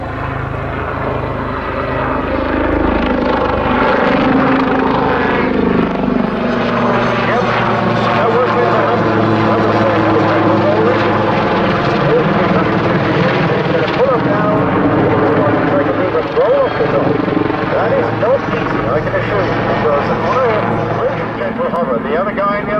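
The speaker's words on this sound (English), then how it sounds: "the final aircraft display of the afternoon, the Army Air Corps Lynx helicopter" An Army Air Corps Lynx helicopter flies a display at an air show. Its rotor and engine roar stays loud and sustained, rising and falling as it maneuvers, with an announcer talking over it.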